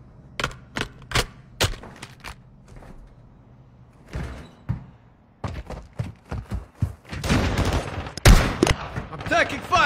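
Video game gunfire cracks out in bursts of sharp shots, some rapid and clustered, others single, close and loud, building into denser firing toward the end.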